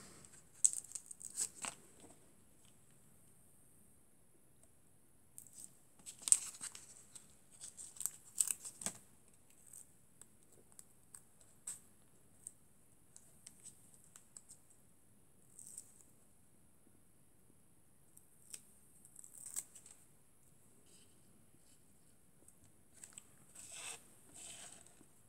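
Paper card being cut for a handmade birthday card, giving faint, close, sporadic snips and crinkles with long quiet stretches between them.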